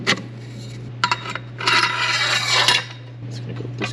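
A tailpipe is fitted on a Mk4 2.0 wagon's Techtonics exhaust: short metallic rubbing and scraping bursts, then a longer grinding scrape, up close over a steady low hum.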